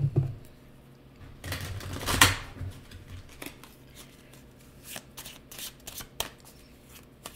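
A deck of tarot cards being shuffled up close, with crisp riffling flutters and soft taps in an uneven rhythm, one louder flurry early on, and no speech.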